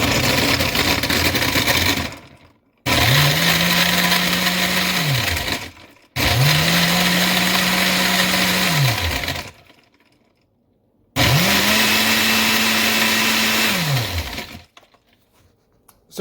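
An Oster 6-cup blender crushes ice for a smoothie on a medium setting in three loud bursts, each motor run rising to a steady whine and grinding roar, then cutting out into brief silences.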